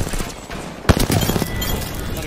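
Game gunfire in Apex Legends, including a flatline rifle, comes as loud rapid bursts and a sharp spike of shots near the middle. Speech can be heard over the shooting.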